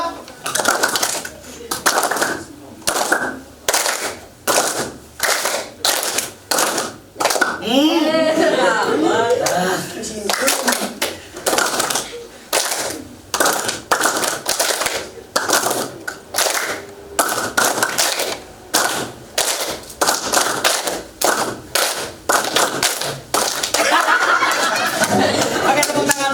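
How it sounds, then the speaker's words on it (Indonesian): A roomful of people in a basic filmmaking class clap their hands in sharp, crisp bursts that fall into fast repeated patterns, loud and close, with brief pauses, scattered chatter and chuckles between rounds. "Oke, tepuk tangan."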